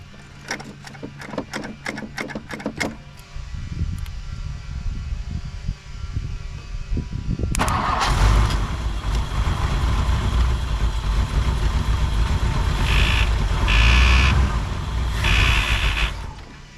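A 1959 Ford Thunderbird, parked for 33 years, cranks with a rapid rhythmic starter whir, then catches and settles into a loud, steady idle that keeps rumbling close by.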